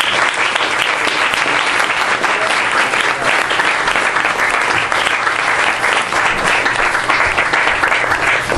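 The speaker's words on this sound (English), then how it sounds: "So please clap your hands for Jonathan Skinner." Loud, sustained applause from an audience at a poetry reading, steady clapping filling the room without a break.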